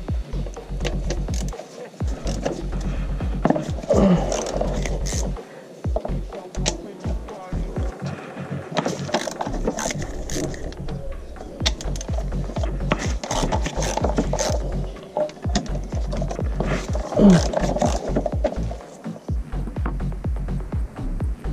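A wrench works the spark plugs loose on a Nissan HR16DE (Renault H4M) engine: steady close scraping, rubbing and ratcheting metal noise with short pauses, over a low background hum.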